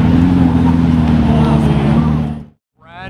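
A Pagani Huayra coupe sweeps past at a Canadian Goodwood-style speed event, a loud, close engine roar that holds steady then cuts off abruptly, followed by a brief rising burst of another engine.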